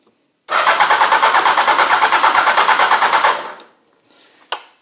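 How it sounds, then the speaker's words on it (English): A 1999 first-generation Hayabusa motorcycle engine cranks rapidly for about three seconds with a steady rhythmic churn but never fires, then stops; a brief faint click follows. "It just turns over and won't fire up."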